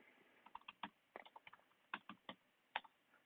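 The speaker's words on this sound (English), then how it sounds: "I'm just typing in what's in the instruction manual." Quick, irregular clicks of typing on a computer keyboard, close and fairly quiet, in short bursts with small pauses.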